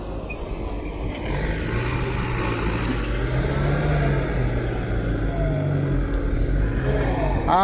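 A new Kubota M8540 farm tractor engine runs on a dirt-hauling job, a steady low diesel drone with a rising rev near the end, close and continuous with no talk.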